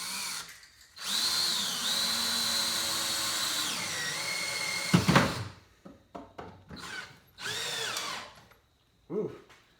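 Power drill driving screws into a rebuilt saw table, with two long whining runs whose pitch sags as the screw seats, a loud clunk, then several short bursts and trigger pulses separated by pauses, close up.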